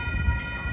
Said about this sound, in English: Like the train is coming.